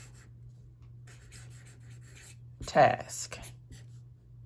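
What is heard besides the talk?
writing by hand in a paper planner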